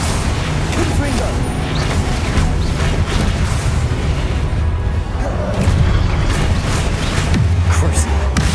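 Confringo blasting curse explosions in Hogwarts Legacy, dense and loud booms and crashes through a busy spell duel, with combat effects layered over one another and no gaps.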